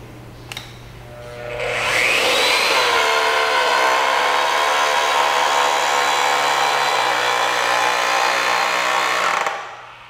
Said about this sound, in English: Press the trigger switch and hold until the pipe is bent to the desired angle.